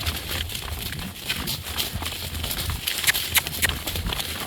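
A horse moves along with steady clip-clop hoofbeats and a bit of rustle, the steps fairly close and continuous throughout.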